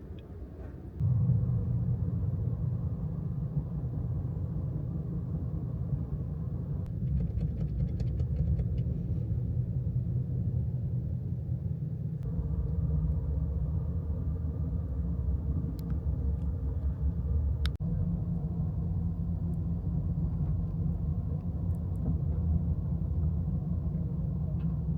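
The California Zephyr passenger train rumbles steadily through a mountain tunnel in Colorado's Rocky Mountains, a dense continuous low roar heard from inside the car, with a faint shift partway through.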